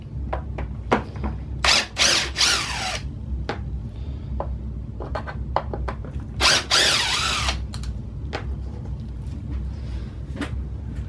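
A cordless power tool removes two T20 screws holding the intake pipe on a BMW N47/N57 diesel engine, with two long whirring bursts and many short clicks and taps from handling parts nearby, fairly close and with no talking.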